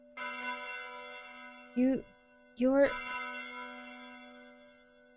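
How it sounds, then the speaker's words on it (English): Church bell chime in a visual novel game, a loud sustained ringing tone with layered harmonics that lingers throughout, with a voice speaking briefly twice over it. "It was a chime loud enough to hurt my ears."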